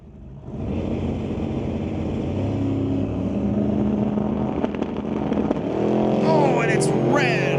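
Hot rod drag race semifinal pitting a Chevy against a Model A: loud, close engine roar kicks in after a brief pause and holds steady, with rising revs toward the end and an announcer talking over it.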